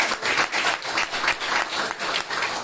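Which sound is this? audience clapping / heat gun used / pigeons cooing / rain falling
audience clapping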